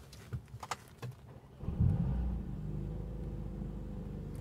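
A Mercedes-AMG CLA45 S starts with a brief cranking sound, then settles into a loud, deep, steady idle rumble at close range, after a few clicks and knocks from inside the cabin.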